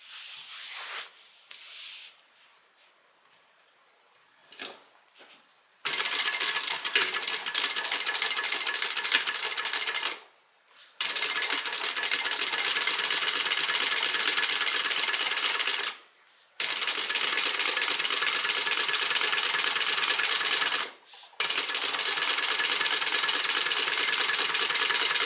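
Sewing machine top stitching through several layers of a tote bag, a close, loud buzzing stitch run in long bursts separated by short pauses, with quiet handling sounds at the start.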